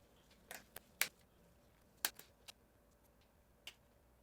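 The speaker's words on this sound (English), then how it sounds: "So I'm just gonna cut a flat bottom" Scissors snip carefully at the bottom of a round string snowman craft, a handful of short, sharp, close clicks spaced irregularly in a quiet room.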